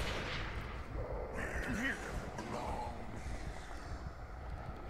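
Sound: gunfire in video game Call of Cthulhu Dark Corners of the Earth

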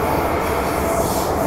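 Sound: Hong Kong MTR train running

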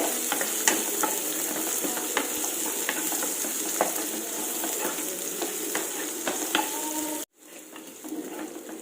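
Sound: onions frying in a pan

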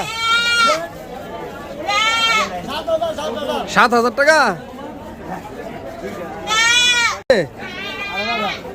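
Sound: goats bleating at a Eid livestock market

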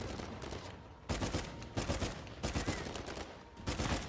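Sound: gunfire in a video game

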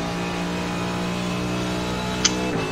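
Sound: Mercedes GT3 car engine in video game iRacing

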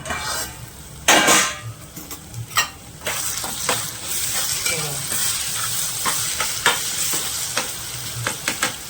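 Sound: tomatoes added to frying vegetable curry, stirring in pan

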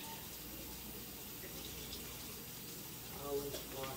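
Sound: rinsing a grater under a running tap

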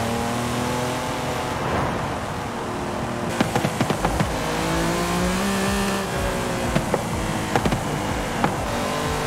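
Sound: Lamborghini Countach LP5000 QV backfiring in video game Forza Horizon 5

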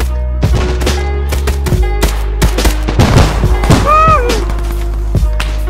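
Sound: grenade launcher firing and gunfire in an action movie

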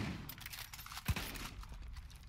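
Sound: gunfire in Far Cry 5 video game

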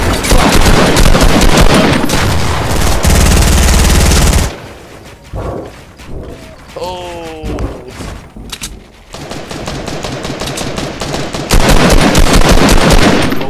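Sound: gunfire in the video game Fortnite

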